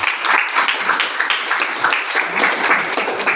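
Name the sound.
class applause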